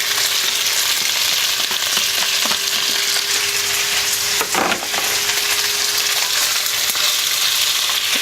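Prawns and cabbage frying for Malaysian mee hoon over a high flame, a steady loud sizzle running throughout with occasional stirring scrapes and a brief burst near the middle.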